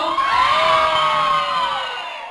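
At a daycare Christmas party, São Paulo fans let out a loud, sustained crowd cheer, with many voices of adults and children shouting and whooping close by, holding steady before tapering off slightly at the end.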